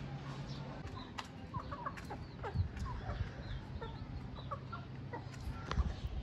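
Chickens and a black rooster clucking in a coop, a steady scatter of soft clucks and chirps over low background noise, close to moderately near, with no talk.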